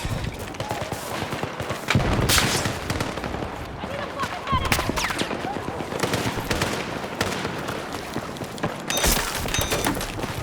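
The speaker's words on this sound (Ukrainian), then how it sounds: "всі, всі вже в цих снайперів стріляють" Rapid bursts of gunfire in Battlefield 6 crackle and pop in a dense, continuous barrage, with heavier booming sniper shots standing out now and then.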